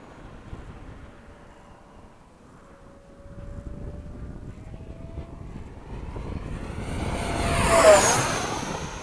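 An Eflite 80mm F/A-18D model jet flies a downwind pass before a storm. The ducted-fan whine grows from distant and faint to a loud close rush that peaks and begins to fade, with some wind noise.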